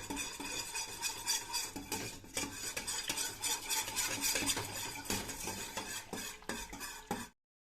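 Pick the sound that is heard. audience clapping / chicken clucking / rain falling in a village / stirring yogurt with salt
stirring yogurt with salt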